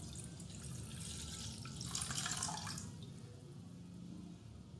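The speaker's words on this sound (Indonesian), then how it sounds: "Siapkan susu cair full cream sebanyak 250 ml. Tuangkan ke dalam panci." Full cream liquid milk, about 250 ml, is poured into a cooking pot. It makes a soft, faint liquid splash and trickle that swells briefly in the middle and then fades.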